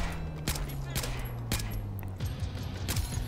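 Rapid gunfire in the stealth action game Splinter Cell: Blacklist on PC, a string of sharp shots at intervals under a steady engine-like hum, with occasional voice.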